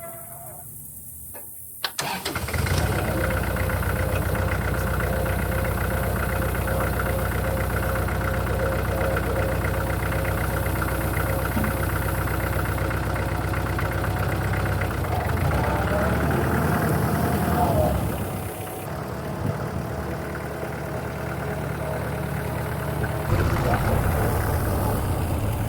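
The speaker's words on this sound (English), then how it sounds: "I bought myself a tractor. It's a 2004 Kubota, 52 horsepower" A 2004 Kubota 52-horsepower tractor engine starts and then idles steadily, loud and close, with a continuous diesel rumble and small shifts in tone.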